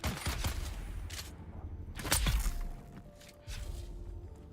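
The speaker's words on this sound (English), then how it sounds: "No, I heard somebody shooting at me." Gunfire in the video game Dune, a few sharp bursts of shots with thuds and scattered impacts, moderately close amid quieter in-game ambience.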